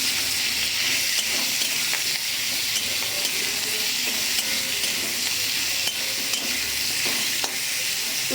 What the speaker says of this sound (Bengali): এবার কাঁচকলা কটা দিয়ে দেবো, কারণ এটাও ভাজতে হবে, তো এটাও ভেজে নেবো